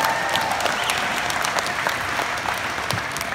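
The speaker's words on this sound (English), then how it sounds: "Round of applause for Isaiah Briscoe." A round of applause for a player at a father-son basketball camp: a crowd's dense, steady clapping, fairly loud and continuous, with scattered sharper claps and no talk over it.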